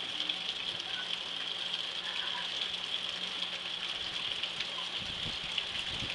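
Rain falls steadily outdoors as a soft, even hiss and patter on surfaces, faint and continuous throughout.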